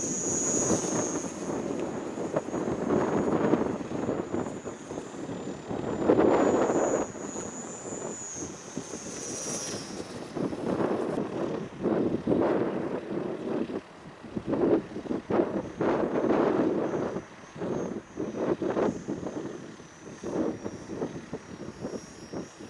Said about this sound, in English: Plane now seems to fly again.